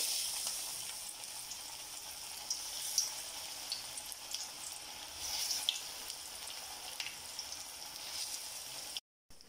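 Plantain flower vada deep frying in a pan of oil, a steady broadband sizzle with occasional brief pops and crackles, close and continuous, no talking.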